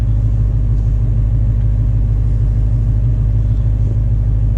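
A manual Dodge Hellcat idles on launch control, its deep steady engine rumble close and constant with no revving, no voices over it.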